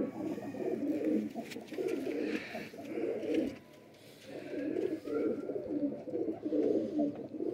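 Ferozpuri pigeons coo in soft, rhythmic low bursts that repeat through the whole stretch, steady and fairly close, with a short lull in the middle before the cooing resumes.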